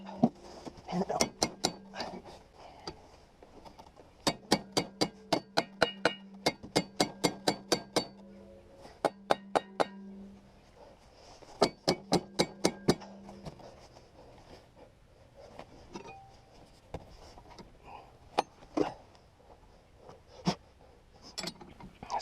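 Hammer strikes on a rotting 1970s Yamaha snowmobile come in quick rhythmic bursts of sharp metallic knocks, separated by pauses and quieter handling noises, with some talk in between.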